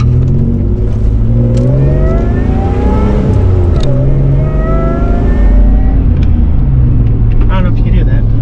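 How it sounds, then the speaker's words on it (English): A supercharged Isuzu Trooper engine drones loudly from inside the cabin as it revs, with a rising and falling whine over the deep rumble; a voice speaks over it. "Let's see if you guys can hear the supercharger."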